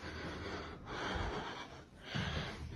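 A woman breathes heavily in a played ghost recording, loud ragged inhales and exhales in three surges, close and alone without speech.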